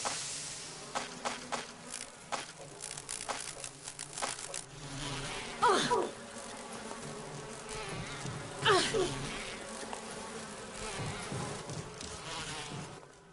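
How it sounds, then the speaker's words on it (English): Bees buzz in a video game in Left 4 Dead style, a faint busy insect drone with a couple of rising whine sweeps and scattered clicks, under occasional quiet talk. "Fuck them bees!"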